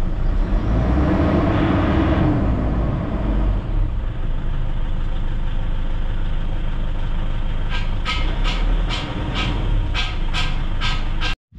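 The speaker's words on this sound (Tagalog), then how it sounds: "Subukan natin i-rev." A Toyota Innova with a 2KD diesel engine and a check-engine fault runs with a steady loud drone, then a series of sharp rhythmic ticking or clattering bursts near the end before it cuts off.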